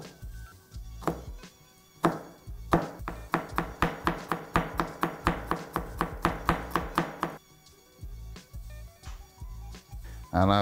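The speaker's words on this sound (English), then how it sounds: "Adding some pimentos and some garlic to the party. So just cut out the stems here." A knife chops steadily on a cutting board, trimming stems off pimentos and garlic, close and crisp with a quick regular rhythm of about twenty strikes, framed by brief talk.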